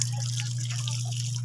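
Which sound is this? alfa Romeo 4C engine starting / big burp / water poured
water poured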